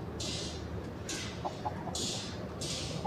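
A few soft clucks from an Indian Salata rooster sound faintly, between four bursts of airy hissing noise.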